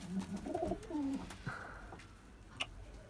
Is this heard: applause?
no